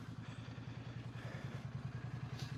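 A Royal Enfield Bear 650 motorcycle idling with no silencer fitted, its open exhaust giving a raw, even thumping pulse that repeats rapidly and steadily at close range.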